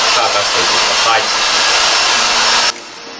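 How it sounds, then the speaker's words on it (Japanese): Hair dryer blowing steadily on very short men's hair, a loud continuous airy roar at close range that cuts off abruptly near the end, leaving a quieter background. "ちょっと握りながら根元を立ち上げるような意識で乾かしていってください"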